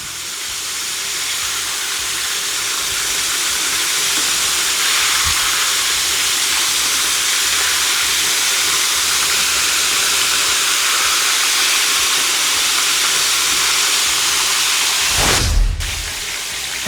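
Chicken fried steak sizzling in hot oil, a loud, steady crackling hiss that continues throughout, with a brief clatter near the end.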